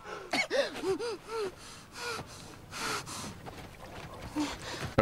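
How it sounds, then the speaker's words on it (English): A woman gasps and sputters in sharp, choking breaths, coughing as if coming up for air, with a few short harsh bursts close by. "they loop the sound of her coughing up water twice"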